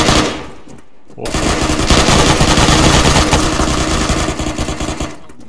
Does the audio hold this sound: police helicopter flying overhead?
no